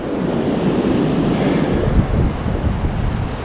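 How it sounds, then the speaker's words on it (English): Rough ocean surf at Cherry Grove Pier, a loud continuous roar of breaking waves mixed with heavy wind buffeting the microphone. "The waves are kind of rough"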